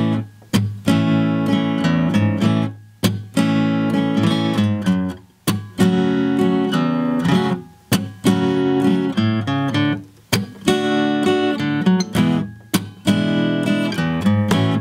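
Guitar playing a song in the original key, with the bassline worked into the strumming: steady rhythmic strums with low bass notes between them, close and clear, no voice.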